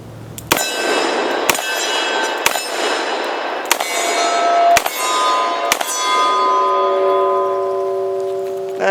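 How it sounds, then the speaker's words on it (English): A revolver fired double action at a steel target gives about six sharp cracks, each followed by a ringing metallic clang that hangs and fades. They come at roughly one-second intervals, loud and close, with no voices. "I'll shoot a couple double action here."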